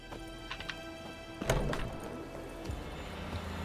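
Horse hooves clop and thud amid game sounds in The Witcher 3, with a heavier impact in the middle over a constant low background hum.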